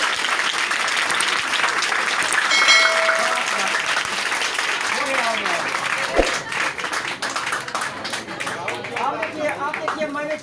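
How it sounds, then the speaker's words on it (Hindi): Loud, sustained audience applause for teachers at a Teachers' Day speech event, dense clapping filling the whole stretch with crowd voices and cheers mixed in. "कृपया आप लोग इन सभी महान टीचरों के लिए बहुत जोरदार शानदार तालियां।"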